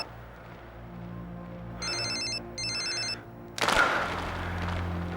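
A telephone ringtone sounds in two short electronic bursts, trilling tones repeated over a steady low hum, followed by a loud rustling crash.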